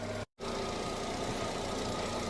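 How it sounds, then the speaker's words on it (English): A car engine idles steadily while warming up until the thermostat opens, a continuous close, even rumble with a brief dropout near the start and no talk. "Just gotta let the engine warm up enough so where the thermostat opens and it circulates."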